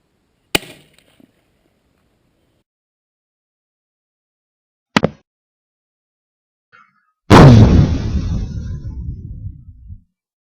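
A shotgun firing an explosive flash-powder slug at a cardboard box target downrange: two sharp, brief cracks a few seconds apart, then a loud blast that decays into a rumbling tail, with no talk.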